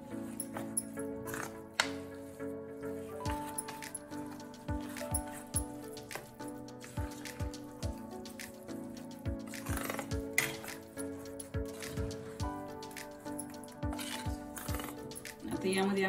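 Grated cabbage is mixed into a rice and moong dal batter with a spoon, giving repeated light clinks and taps against the bowl in an uneven rhythm, close by, while someone talks over it.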